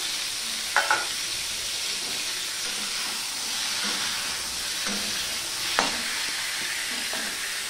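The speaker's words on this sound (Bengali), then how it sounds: "এবার আমের টুকরোগুলো সমানে আমি নাড়তে থাকবো ফোড়নের সাথে মিশিয়ে।" Green mango pieces being stirred into a hot spice tempering for pickle, a soft steady sizzle and hiss with a few sharp spoon clinks against the pan, close and without talk.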